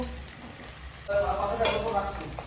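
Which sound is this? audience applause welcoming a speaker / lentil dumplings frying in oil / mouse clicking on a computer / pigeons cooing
lentil dumplings frying in oil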